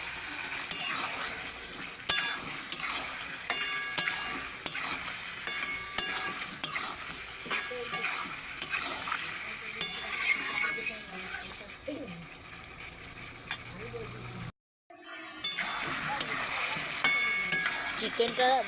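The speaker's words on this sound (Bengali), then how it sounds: "সব একসাথে ভালো করে কষে নেব।" Chicken stir-fries in a pan with fried potatoes and papaya, a constant sizzle under repeated spatula scrapes and clinks against the metal, close-up, with someone talking over parts and a brief drop to silence near the end.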